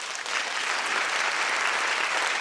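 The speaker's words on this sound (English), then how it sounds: "So give yourselves once again a round of applause." Crowd applause at a high school sports scholarship and awards ceremony, a continuous wash of many hands clapping together at an even, moderately loud level throughout.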